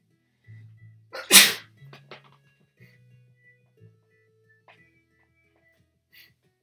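A single loud sneeze bursts out near the start, followed by a few faint sniffs and small rustles in an otherwise quiet room.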